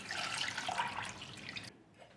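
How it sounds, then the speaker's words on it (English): Water is poured into a cooking pot holding a small amount of radish for two servings of Maeuntang, Korean spicy fish stew; a steady, close splashing stream runs for under two seconds, then stops abruptly. "Add 4 cups of water."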